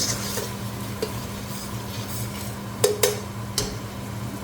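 Whole-spice tempering crackling in hot ghee in a pan for cumin rice, a soft continuous sizzle with a few sharp utensil clinks against the pan.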